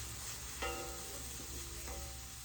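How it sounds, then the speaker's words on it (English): Butter and mirepoix sizzle and fry in a pan for a meat ragu, a soft continuous hiss with a couple of brief stirring scrapes and no one talking. "The mirepoix is getting nice and cooked"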